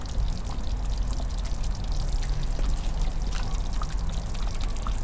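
Coconut milk bubbles steadily in a pot of slow-cooked beef rendang in a wood-fired oven outdoors, a dense continuous crackle and bubbling mixed with heavy rain noise, with no talking.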